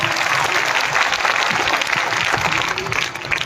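Loud, sustained applause from an audience clapping for village children from Jasola at a public event in Okhla, Delhi, with steady dense clapping and crowd murmur throughout.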